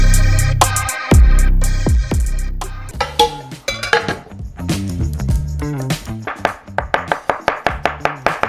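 Knife chopping onion on a cutting board for a purée, loud close sharp chops that start scattered and settle into a fast steady rhythm, with no talk.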